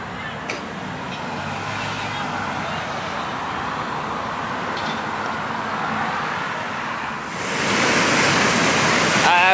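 Steady broadband rush of a waterfall fills the scene throughout, swelling louder and brighter near the end as the sound source draws closer; no clear talk over it.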